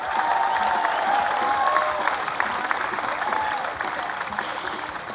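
Crowd applause from an audience at a tiger diving show, a steady wash of clapping with some cheering that holds level for several seconds before easing slightly, with a faint tonal call drifting over it.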